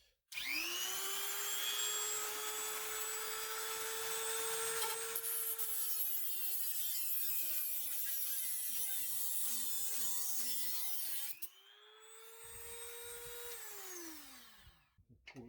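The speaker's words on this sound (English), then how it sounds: "I think I'm just going to grind down this one with the Dremel." A Dremel rotary tool grinds down a part on a Tronxy XY-2PRO 3D printer, giving a loud, steady high-pitched whine whose pitch sags under load mid-way, rises again, then spins down at the end, with no talking.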